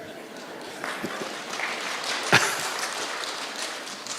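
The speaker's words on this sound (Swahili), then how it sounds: "Hapa tunapiganga makofi." Audience applause at a school gathering of principals: steady, moderate clapping from a crowd, with one sharper knock midway and a murmur of voices underneath.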